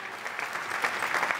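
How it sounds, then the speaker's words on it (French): Audience at a French-language film awards ceremony applauding a Cameroonian traditional dance group, a steady, dense wash of clapping held at an even level throughout with no pauses. "Encore des applaudissements"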